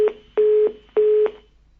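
A phone line sounds after a call disconnects: three short, steady electronic beeps in an even rhythm, clear and alone with no talk.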